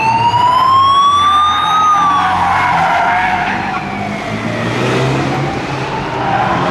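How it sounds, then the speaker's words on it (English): Pace cars rounding the Monte Carlo hairpin during the Monaco Grand Prix Historique, a loud nearby engine whine with tyres squealing through the turn, then more engines passing, no talk. "These are the pace cars."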